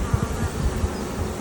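Honey bees and drones buzz steadily on a brood frame from a hive preparing to swarm in April, a close, dense hum with brief louder flybys.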